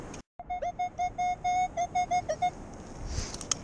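A metal detector sweeping a beach gives a run of about a dozen short, evenly spaced electronic beeps of the same pitch, close and clear over quiet background noise, ending with a faint rustle.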